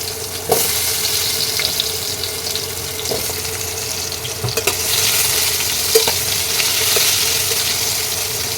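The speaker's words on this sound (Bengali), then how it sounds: "তেলটা গরম হয়ে গেলে আমি আলুগুলো ভাজবো।" Potatoes frying in hot oil in a wok, a steady close sizzle and hiss with occasional soft clinks of stirring, no voices.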